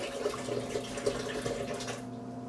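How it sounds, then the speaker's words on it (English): Water pours steadily into a blender jar holding almonds and dates for homemade almond milk, a continuous close splashing trickle that cuts off near the end. "And then I'm going to add the water."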